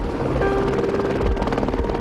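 A search and rescue helicopter from Utah's Department of Public Safety flies nearby with a loud, steady rotor thump and engine drone filling the sound throughout.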